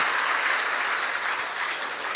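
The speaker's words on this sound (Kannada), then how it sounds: "ಜೋರಾದ ಚಪ್ಪಾಳೆಯೊಂದಿಗೆ ಗೌರವಿಸೋಣ." A large audience claps together at a religious discourse gathering, a dense, loud, continuous burst of applause that stays steady from start to finish with no talk over it.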